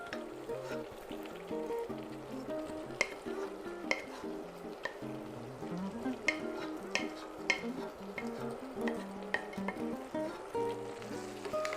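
Eggplant and zucchini frying in a pan, a soft sizzle with frequent spoon or spatula clinks and scrapes as the vegetables are stirred, set under steady background music with no talking.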